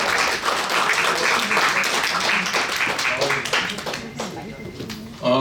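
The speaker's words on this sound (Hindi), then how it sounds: "बहुत सारी तालियों में प्रीतपाल साहब आपके हैं।" Audience at a Tri-State mushaira poetry gathering applauding steadily, a dense wash of many hands clapping that swells and holds for several seconds, with background voices mixed in.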